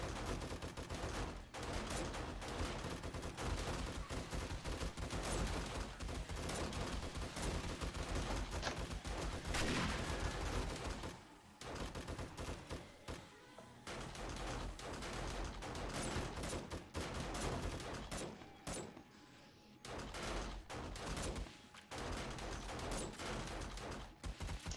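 Dense, sustained video game gunfire from a horde base battle, with rapid overlapping shots and bursts running nearly throughout, loud and continuous apart from a short lull midway and another near the end.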